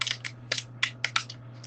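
A lobster tail shell being snipped with kitchen scissors while preparing a holiday dinner, heard as a run of sharp, close, dry cracks and crunches in irregular bursts over a low steady hum.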